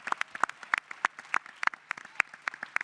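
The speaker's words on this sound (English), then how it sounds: "Give Brother Wendell Pierce a round of applause." Scattered, irregular claps from a small audience at a Black Caucus gathering, a sparse round of applause with distinct individual hand claps rather than a dense roar.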